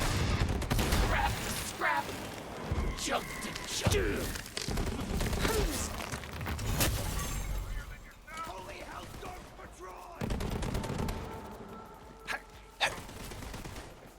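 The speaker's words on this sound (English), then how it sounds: "We're able to get some good pop shots off on him." Rapid gunfire in Borderlands 3 comes in bursts of sharp pops over a busy game soundtrack. A voice talks over much of the action.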